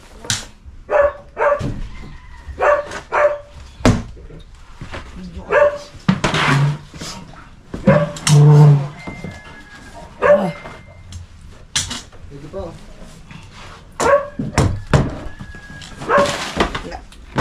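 Repeated dog barks and yips break out in bursts, some near and loud, with a few whimpers and occasional voices talking in between.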